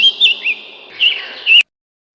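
A songbird sings clear, high whistled chirps and warbling phrases close by, in short rising and falling bursts that stop abruptly.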